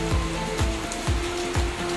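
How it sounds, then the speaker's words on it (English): Heavy rain from storm Beryl falling in a neighborhood, a dense steady hiss of water hitting surfaces, with a few short low thumps recurring at regular intervals, close and loud with no talk. "it's raining really hard"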